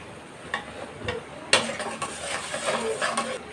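Spice masala of turmeric, chili and coriander powder, salt, cinnamon and cardamom is stir-fried in a pot for khichuri. A spoon scrapes and clinks against the pot in irregular strokes over a soft, steady sizzle.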